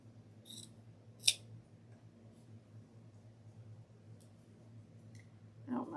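Scissors snip ribbon for a handmade Father's Day craft, a few faint, sharp cuts spaced apart against a quiet background hum.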